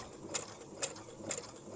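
Uten 2685A sewing machine stitching fabric ruffles, a faint soft mechanical whir with regular light ticking clicks about every half second, heard alone.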